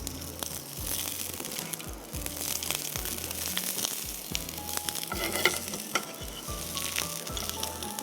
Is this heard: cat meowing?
no